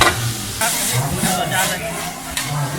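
Pad thai stir-fried in a hot wok bursts into loud hissing sizzles in repeated surges as food is tossed, with someone talking over the cooking.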